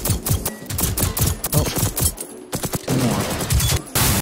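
Rapid video game gunfire crackles in dense bursts of automatic shots, with brief gaps between volleys, loud and close, with no talking.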